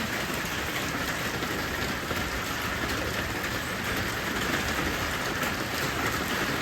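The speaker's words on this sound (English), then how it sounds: "lots of rain. It needs to stop soon." Steady, heavy rain pours down in a dense, unbroken hiss with no pauses.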